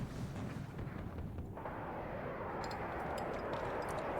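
Artillery firing in the Cold War strategy game Warno: a steady, distant, roaring rumble of guns with a hissing wash that swells slightly partway through.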